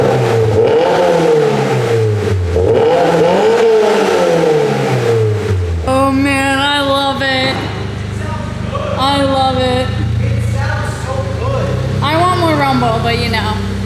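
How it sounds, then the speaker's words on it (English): A 2022 Toyota GR86 with a Greddy Evo GT catback exhaust revs repeatedly, the engine note rising and falling in loud, throaty surges, with a voice talking over part of it. "This exhaust is like a happy medium. It's not too loud, and it sounds really good"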